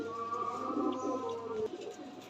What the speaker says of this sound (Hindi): ये उड़ने वाले कबूतर हैं मेरे